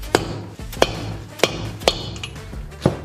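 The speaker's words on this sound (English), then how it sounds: "If you want to use a deep socket, you can give her a little taparoo." A deep socket taps a new valve seal into place on a cylinder head, making five light, sharp metallic knocks spaced unevenly over a few seconds, close and clear with no talking.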